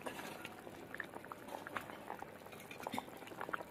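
Gravy for a rohu fish curry with green tomato boils in a pot, a faint, steady bubbling with small pops and gurgles scattered throughout.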